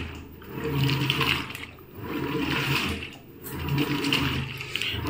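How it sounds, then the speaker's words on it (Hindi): A top-load fully automatic washing machine runs its jet spray, with water rushing and splashing in three surging waves over a low mechanical hum. The sound is close and steady, with no talk. "अब इसमें जेट स्प्रे कब चलता है वो भी मैं दिखा देता हूँ आपको।"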